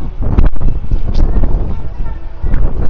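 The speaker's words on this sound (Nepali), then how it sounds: "हावा चाहिँ यस्तो" Gusty outdoor wind at the Riverland Dubai exit gate buffets the microphone in a steady low rumble for three seconds, with faint voices in the background.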